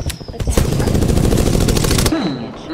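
A sniper rifle shot in the Apex Legends video game, a loud close report followed by a dense rattling burst of rapid gunfire and a brief ringing tail.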